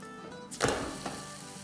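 Aloo paratha flipped onto a hot oiled pan, a sudden loud sizzle that flares up, fades over about a second and gives a smaller second flare, with faint steady frying before it.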